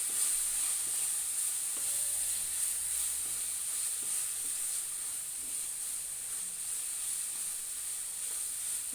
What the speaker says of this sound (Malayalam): തീ കൂട്ടി വെച്ചിട്ട് ഫ്രൈ ആക്കാൻ വേണ്ടി വെക്കണേ.